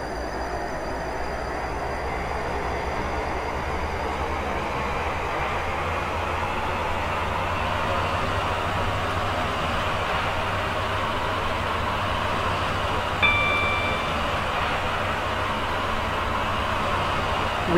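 Class 458/5 electric multiple unit running in the Roblox game Stepford County Railway, a steady continuous rumble and hum of the train underway with a faint brief tone partway through, no talk.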